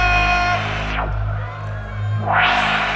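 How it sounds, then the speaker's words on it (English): Crowd at a boxing match cheering and shouting in an arena, a loud roar that dips in the middle before swelling again, with sustained tonal hum and voices blended into the noise. "Everybody in the house tonight, make some noise!"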